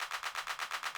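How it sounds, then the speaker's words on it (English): A classic 808 clap roll with light reverb repeats in fast, even bursts, about ten quick hits in a second, fairly quiet and alone. "I add a clap roll as well. It's just a classic 808 clap."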